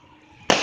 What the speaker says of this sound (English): Hopefully you guys can see the fireworks.